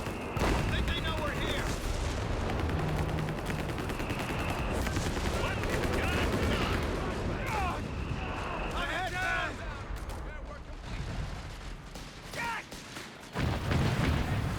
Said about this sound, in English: That's the captain's artillery there.